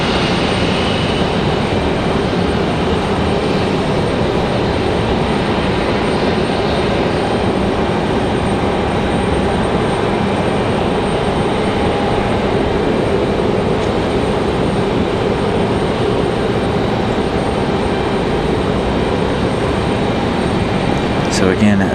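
A Delta airliner arriving from Orlando rolls on runway 23 left at Raleigh-Durham International, giving a sustained, even jet engine roar close by, with a voice faintly beneath it.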